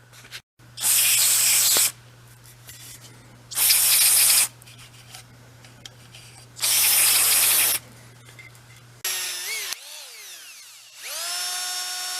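Short bursts of pressurized water spray rinse lapping compound off an old Ford truck's engine valve, three loud hissing blasts separated by quiet gaps, followed by a couple of brief mechanical whirs near the end.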